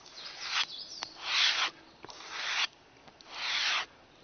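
A bushcraft knife blade is pushed spine-first along a leather strop with light pressure, making four smooth, even rubbing strokes that are close and clear, with short pauses between them.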